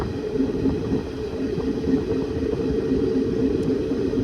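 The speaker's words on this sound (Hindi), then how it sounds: "अभी अभी हमारी ट्रेन ने पेद्दापल्ली को क्रॉस किया है" A passenger train in India runs on past Peddapalli, a steady, loud rolling rumble with faint rhythmic clicks from the tracks, heard from inside the carriage with no talking.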